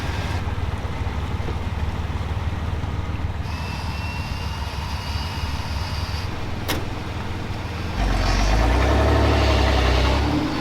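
A stuck off-road truck engine, a Bronco on a rough trail, drones steadily as the wheels fight for grip, then revs louder and deeper near the end as it strains to move.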